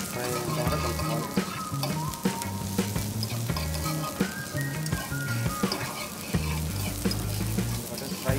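Vegetables with long-cut capsicum sizzle steadily in a hot pan for veg Hakka noodles, loud and continuous, while low tonal music-like hum and occasional clatters of stirring run underneath.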